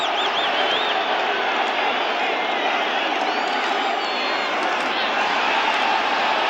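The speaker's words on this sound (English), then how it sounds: "Crowd getting into it once again" Large football stadium crowd at a 1985 Cowboys vs. Giants game cheering and roaring continuously, a loud, steady wash of many voices with scattered whoops throughout.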